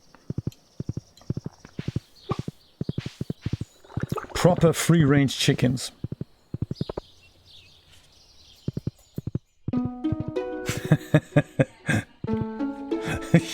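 Horse hooves clip-clop in a steady walking rhythm through the farm game Stardew Valley, close and clear, with game music chiming in toward the end and a person talking over parts of it.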